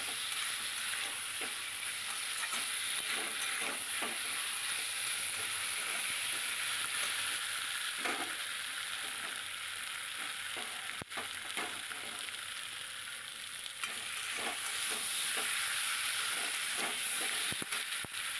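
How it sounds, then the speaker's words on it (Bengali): Potato and papaya pieces sizzle and fry with spices in a pan for a chicken keema dish, a soft continuous crackle broken by occasional scrapes and clinks of a spoon stirring, with no one talking. "এবার এই যে আলু পেঁপেটা এই মশলার সঙ্গে কষিয়ে নেব"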